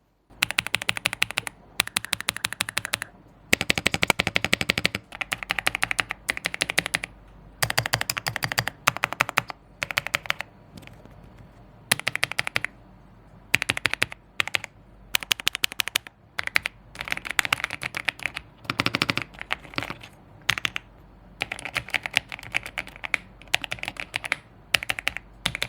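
Rapid clacky keystrokes come in bursts with short pauses, crisp and close, from a Voicsky Echo96 mechanical keyboard being typed on.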